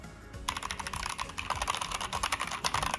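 Rapid, dense keystroke clatter from a Keychron RGB Bluetooth keyboard being typed on steadily and close, with no voices, starting after a brief quiet moment.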